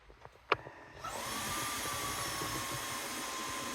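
Roborock F25 wet/dry vacuum starting its self-cleaning cycle: a few soft clicks and a sharp knock, then the motor spins up into a steady, loud whirring hum that holds to the end.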